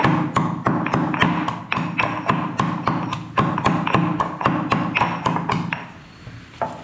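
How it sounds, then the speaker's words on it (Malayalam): Garlic and ginger pounded in a mortar with a pestle: a close, steady run of roughly twenty sharp thuds at a brisk, even rhythm, with no talking. "ഇത് ചതച്ചെടുക്കാം."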